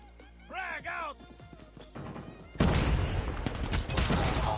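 Rapid bursts of submachine-gun fire from a Cordite SMG in Call of Duty Mobile, dense and loud in the second half after a brief stretch of game sounds and voices.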